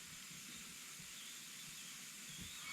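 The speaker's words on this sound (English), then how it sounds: "there, steam shooting out the heel, which is good." Steam hisses continuously from the neck heel joint of a Martin D-28 acoustic guitar during neck removal, a steady, bright rushing sound with faint low thumps beneath.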